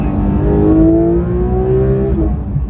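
Porsche 911 GT3 RS engine revving hard from about 6,000 toward 9,000 rpm on a main road, a loud rising howl heard from inside that climbs steadily before easing off near the top.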